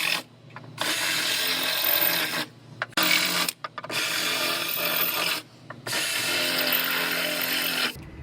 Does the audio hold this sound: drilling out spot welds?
yes